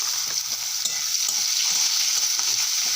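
Onions go into a pan of hot oil already frying cardamom, cinnamon, cumin and bay leaves, giving a steady close sizzle with scraping stir strokes throughout and no talk.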